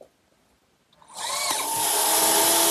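A power drill drives screws to fasten a half-inch plywood bottom into a blanket chest, starting after a second of quiet and then whirring loud and steady to the end.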